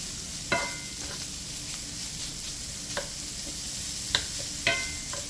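Seasoned shrimp searing in a pan for a shrimp, potato and kale dish, with a constant close sizzle broken by a few sharp clinks and scrapes of a utensil against the pan.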